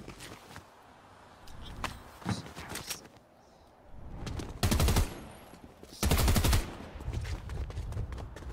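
Gunfire in the Fortnite video game, sharp shots and bursts scattered through the clip, with two loud sustained volleys of rapid fire standing out.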